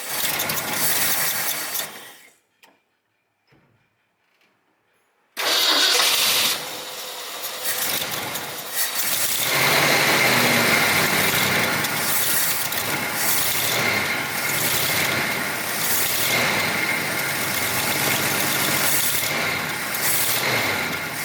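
An abandoned Ford F100's engine runs after a shot of starter fluid, with a loud rough mechanical churn that stops into near silence for a few seconds, then returns and holds steady and close.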